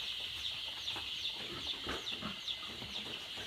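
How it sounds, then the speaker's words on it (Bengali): Chickens on a poultry farm eat their night feed, with faint scattered clucks and pecking under a constant high droning hum. "মুরগির কত সুন্দর করে খাচ্ছে"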